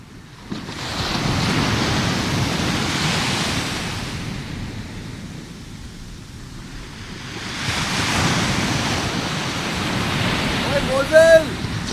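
Stage sound effect of ocean waves in a Hindi play, two long swelling surges of surf that rise and fade, fairly loud, with a brief sharp sound near the end.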